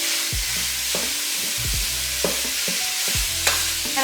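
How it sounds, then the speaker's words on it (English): Beef hits a hot Dutch oven and sizzles with a steady hiss, broken by repeated scraping and knocking as the meat is stirred and chopped down in the pan. "when the beef gets in the pan, it just kind of cooks right away"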